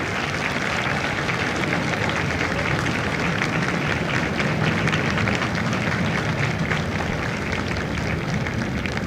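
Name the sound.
audience applause for Marines at graduation ceremony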